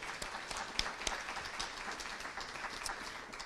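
An end-of-year celebration audience gives a steady round of applause of moderate loudness, with a few sharper individual claps standing out, continuing evenly throughout.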